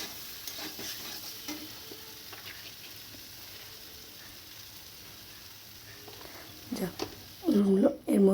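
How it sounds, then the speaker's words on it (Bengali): Soybean chunks are stirred in a frying pan, with a low steady sizzle and scattered scraping knocks, and a voice speaks near the end. "অল্প অল্প করে সয়াবিন দেব আর নাড়াচাড়া করে নেব"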